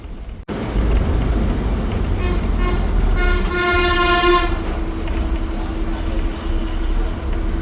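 A train at Kanchipuram railway station sounds its horn in a long steady harmonic blast over a loud, continuous rumble of rail and engine noise, heard close by.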